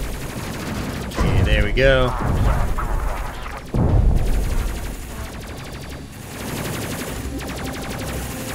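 Dense rapid gunfire from a Space Crew video game battle, sustained bursts that surge and fade over several seconds, heard alongside a man's brief speech and other game sounds.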